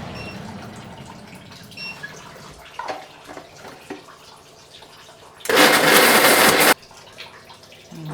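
An electric mixer grinds raw chicken into keema, a loud dense whir bursting in for about a second near the end, with quieter clinks and kitchen handling before and after.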